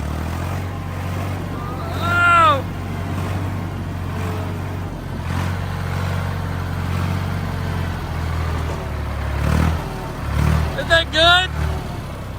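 A backwards-steering tractor's engine runs steadily throughout, a low continuous rumble with a few swells, while people talk briefly over it.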